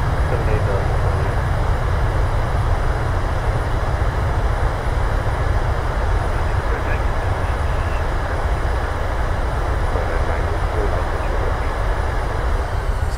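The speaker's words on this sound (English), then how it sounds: "Nose down gently, reversers out." A simulated Boeing 737-800 on landing rollout with thrust reversers deployed in Microsoft Flight Simulator, a loud, steady, dense engine roar holding evenly for the whole stretch.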